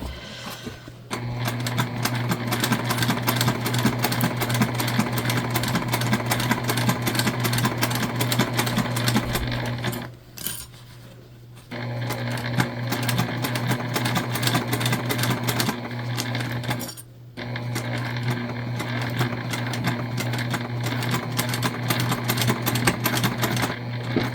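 A sewing machine stitches a beginner fabric heart with a close, rapid, even whirring and clatter, stopping twice briefly before running on steadily.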